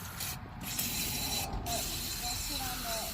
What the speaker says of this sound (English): I'm gonna go ahead and spray any linkage that moves.